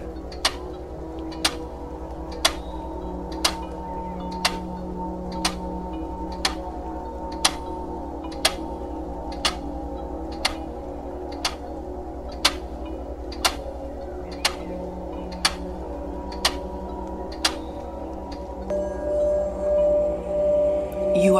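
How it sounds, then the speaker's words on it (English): A clock ticks in a slow, steady rhythm, about one sharp tick per second for some twenty seconds, clear over a low background hum that swells near the end. "Listen to the tick tock of the clock."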